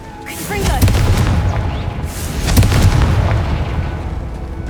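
A Confringo fire-blast spell bursting in the Hogwarts Legacy video game, two loud booming blasts a couple of seconds apart with rumbling tails, up close, over a steady background of game ambience.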